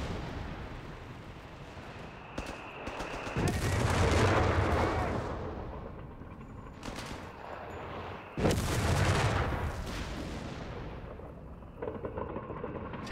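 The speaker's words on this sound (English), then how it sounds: "That is rocket artillery." Rocket artillery fires in a strategy war game set in a WWII-style battle, with a heavy booming rumble of launches swelling at about three and a half and eight and a half seconds over continuous battlefield noise.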